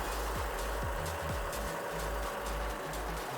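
A John Deere 6600 tractor of 110 hp drives slowly onto a truck. Its low, steady engine rumble stays fairly faint throughout, with a few creaks and knocks over it and no talk.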